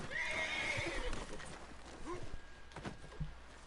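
A horse in Red Dead Redemption 2 gives a shrill whinny, followed by scattered clip-clopping hoof thuds, moderately close over a low game background.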